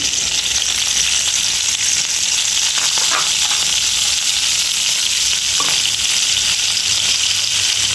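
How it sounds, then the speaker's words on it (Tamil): Green chillies sizzle and fry in hot oil in a pan for an aubergine curry, giving a steady, bright crackling hiss throughout. A few sharper pops and stirring scrapes come through close by, and no one speaks. "இப்போ எண்ணெய் சூடாகிட்டு நாங்கள் இதுக்குள்ளே பச்சை மிளகாயை நாங்கள் சேர்த்து கொள்ளுவோம்."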